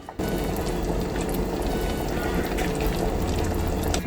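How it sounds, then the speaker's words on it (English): A pot of winter soup simmering on the stove, a dense, continuous bubbling and gurgling that starts abruptly and stays loud and close throughout, with no talk. "now that it's bubbling away, we need to skim everything that's on top"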